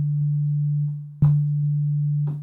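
Synthesizer tone set to zero attack and fast decay: a steady low, pure hum retriggers once with an instant onset, then quickly settles to a quieter sustained level, alone and fairly loud.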